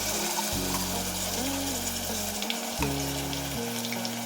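Onion and garlic paste fries in hot oil for mutton paya soup, a steady loud sizzle with occasional stirring scrapes, over a low droning hum that shifts in pitch.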